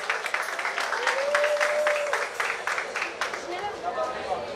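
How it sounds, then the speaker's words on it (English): Steady crowd applause and clapping at an outdoor steelpan finals competition in Skinner Park, San Fernando, Trinidad, a continuous mid-level wash of hands with crowd noise and a faint whistle. "so that deserves another round of applause"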